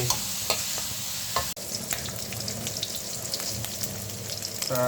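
Pork stir-fried with shrimp paste, stink beans, sweet peppers and onion sizzles steadily in a pan, with close scraping stirs and a few sharp clacks of the utensil against the pan.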